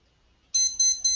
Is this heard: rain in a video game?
no